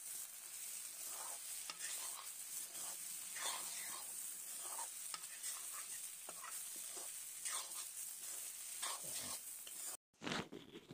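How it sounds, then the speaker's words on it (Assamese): Chicken pieces being fried again in a pan with edible flowers, a steady close sizzle with repeated scraping stirs throughout, briefly cut off near the end before the frying sound returns. "মাংস দি পিনে মই আকৌ ইয়াক অকণমান সময় ভাজিম।"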